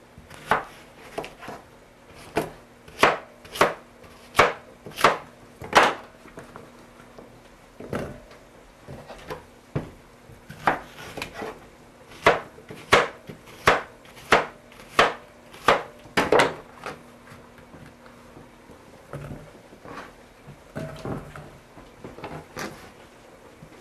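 A knife chops zucchini on a wooden cutting board, a run of crisp, evenly paced thuds in bursts with short pauses between, close and clear with no talk.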